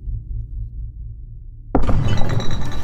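War Department cannons fire in the distance. A low, steady rumble gives way to a sudden loud blast, followed by a sustained crashing roar. No voices are heard.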